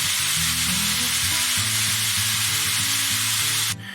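Chuck steak and shrimp scampi sizzling in a hot pan, a dense steady crackle with a low hum underneath, cutting off abruptly near the end.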